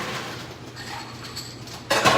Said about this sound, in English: I'm gonna top it off with some ice.